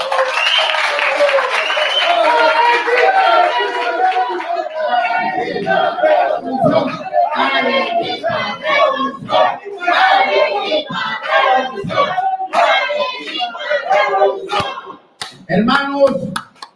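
Crowd at an Arequipa protest rally applauding a speaker's introduction, dense clapping and cheering mixed with an amplified voice and chatter, loud and continuous.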